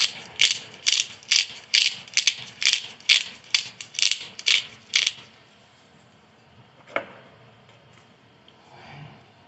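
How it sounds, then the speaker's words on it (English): Black pepper ground in a pepper grinder: about a dozen quick ratcheting cranks in a steady rhythm for five seconds, close and crisp, then a single soft clack and near silence. "another protection herb, black pepper. So I'm going to put it in straight from the grinder."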